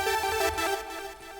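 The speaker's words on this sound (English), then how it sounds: "I went ahead and settled on this Hypersaw Heaven sound that I found in Citrus" A bright, buzzing Hypersaw Heaven synth patch from the Citrus synthesizer holds a thick, sustained chord for just over a second, dense with harmonics and steady in level.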